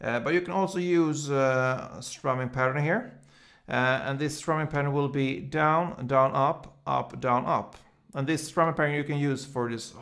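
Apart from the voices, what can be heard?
None of the usual background noises is heard.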